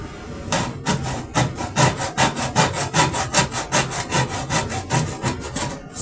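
A hand saw cutting a gray board for a DIY ice fishing tip-up, a close, loud rhythmic run of about twenty rasping back-and-forth strokes, alone without talk.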